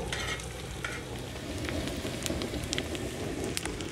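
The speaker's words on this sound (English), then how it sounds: "So we're going to continue to cook the bacon, get it crispy the way we like it" Bacon fries in a disco pan at a campsite, making a dense, steady sizzle and crackle with small pops, heard up close and continuously throughout.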